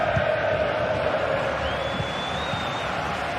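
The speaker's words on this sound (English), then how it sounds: "The crowd certainly think so. Just listen to them." A stadium crowd roars continuously in a football video game, steady and loud with a whistle-like tone rising partway through.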